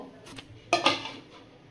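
A lid set on a bowl holding mixed flattened-rice cutlet dough, a light clink followed by a brighter metallic clatter that quickly fades, close and alone.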